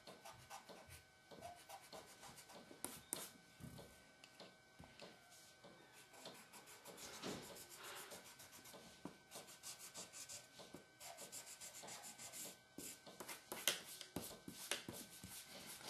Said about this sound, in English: Go ahead and erase this and all that stuff.